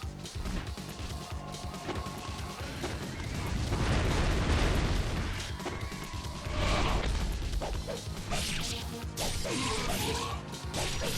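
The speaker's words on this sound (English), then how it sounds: "Alright, so you got explosions" Loud, continuous crashing and booming explosions from the video game Ninja Gaiden Sigma, thick and rumbling throughout with sharper impacts near the end and no talk.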